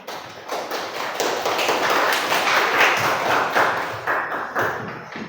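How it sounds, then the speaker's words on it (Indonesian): A classroom audience applauds the person who asked a question, a dense, steady patter of many hands clapping together for several seconds, fairly loud and close, with no talking over it. "Tepuk tangan untuk yang bertanya"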